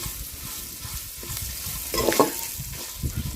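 Sliced bitter gourd fries in a pan as salt is mixed in, a soft continuous sizzle with scraping stirs and a brief louder clatter of the spoon partway through.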